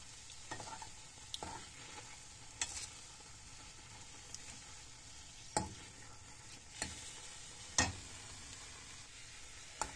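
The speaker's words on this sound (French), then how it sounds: "Et je mélange." A biscuit dough for cats and dogs, seasoned with black pepper, is stirred in a bowl: soft scraping and mixing with a few sharper clicks and knocks of the utensil, fairly quiet and steady, with no talk.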